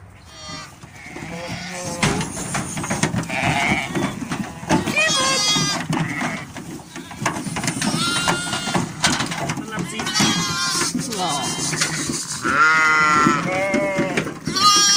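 Newborn lambs, two days old, bleating as they are let out onto pasture for the first time on a farm, with repeated high wavering bleats from several animals close by, overlapping a person talking throughout.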